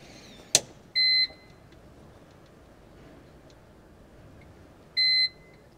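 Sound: ELT emergency locator transmitter beeping while acquiring satellite signal

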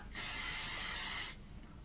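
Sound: sunscreen spray (Icelerskin) being sprayed as fine mist

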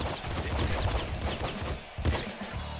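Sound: gunfire and explosions in the video game Nuclear Throne

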